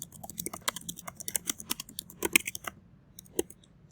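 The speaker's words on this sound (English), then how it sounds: "just type in whatever you like for your personal signature" Quick bursts of typing on a computer keyboard while entering an email signature, rapid close key clicks in an uneven rhythm that slows to a couple of final taps.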